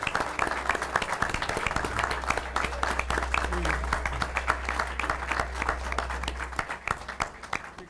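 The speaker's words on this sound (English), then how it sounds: "Please join me in a round of applause." A conference audience gives a sustained round of applause, many hands clapping steadily for several seconds, moderately loud, over a low background hum.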